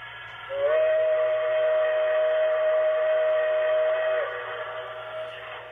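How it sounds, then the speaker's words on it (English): A single sustained steam whistle blast of about four seconds from a BLI T1 2-10-4 model locomotive's whistle quill, steady and close, with a soft rising onset and a low background hum. "With the whistle quill."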